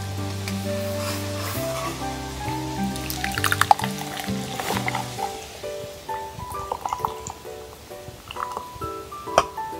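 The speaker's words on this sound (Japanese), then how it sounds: "野菜を炒めていきたいと思います。" Vegetables are stir-fried at a camp cooking setup, with sizzling and clattering stirring under a steady tonal hum, occasional sharp knocks and scrapes nearby, and no talk.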